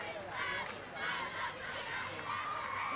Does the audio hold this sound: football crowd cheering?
yes